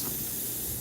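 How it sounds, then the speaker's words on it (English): Paint spray gun being flushed while painting an ocean sunset scene, a steady close hiss of spraying air and liquid lasting the whole short moment, with no talk. "Oops, I was flushing the gun."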